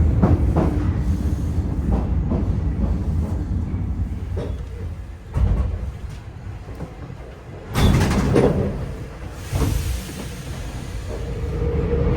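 A Paris metro train runs steadily with a rumbling rail drone, broken by a few louder thuds and rushes of noise as the carriage rattles along, close and continuous.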